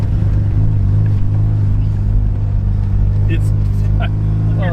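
A Mazda Rotary Pickup (Repu) driving on the road, its engine a steady low rumble and drone filling the cab, with people talking briefly over it.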